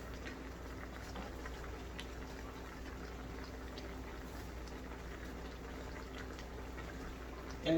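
A crawfish, oxtail, potato and carrot boil bubbling steadily in a pot, a constant soft simmering hiss and gurgle at even volume from start to finish.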